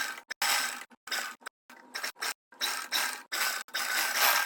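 Close, clattering sewing machine stitching folded fabric at a kurti neckline in repeated short bursts, starting and stopping many times before a longer continuous run near the end.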